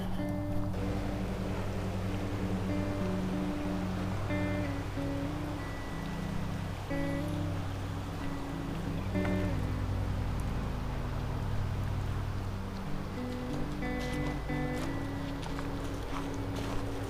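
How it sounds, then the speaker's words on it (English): A lawn mower cuts grass somewhere out of sight in the woods, its droning engine note wavering in pitch throughout, with faint nearby footsteps. "I can hear somebody cutting the grass"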